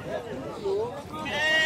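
A few bleats from a goat rise over a murmur of people talking at a livestock fair in Tabira, Pernambuco, the last call higher and more drawn out.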